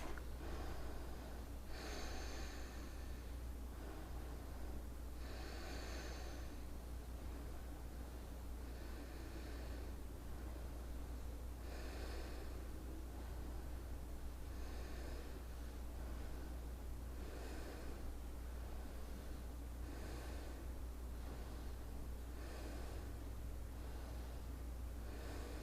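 A person breathes slowly and deeply during a yoga exercise, lying down. Repeated airy inhales and exhales, about a dozen at an even pace, sit over a constant low rumble.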